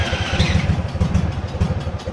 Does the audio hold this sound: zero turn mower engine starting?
yes